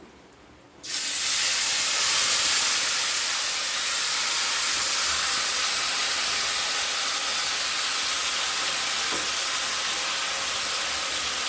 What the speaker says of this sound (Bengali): এবার আমাদের ম্যারিনেট করা মাছটা ছেড়ে দেব।